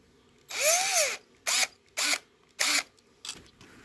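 A power drill tightens the screws on a crossbow mechanism cover, whirring in one longer burst and then three short spurts with a final brief blip. The whine rises and falls with each pulse, close by and with no talk.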